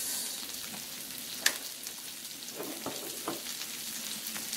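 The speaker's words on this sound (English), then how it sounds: "now, y'all, we add some mussels to the butter" Mussels sizzling in melted butter in a pan for a seafood boil, a steady soft crackle with a sharp pop early on and a few scraping clinks, fairly quiet and close with no voices.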